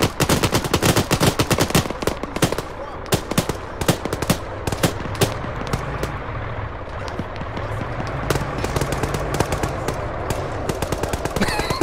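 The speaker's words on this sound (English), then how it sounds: "We're taking heavy fire." Heavy gunfire in the military game Arma 3: rapid bursts of automatic fire and single shots crack repeatedly at close range, dense at first and then continuing in quicker rattling volleys.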